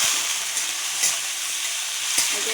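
Moong dal stirred and frying in a pan, with a steady bright sizzle throughout and a few soft scraping stir strokes, up close and alone.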